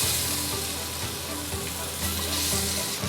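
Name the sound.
chicken wings pan-frying in oil in a stainless steel pan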